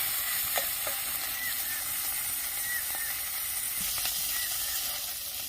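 Prawns frying in a pan, a steady broad sizzle with soft scraping and small pops running evenly throughout, close and fairly loud with no talk.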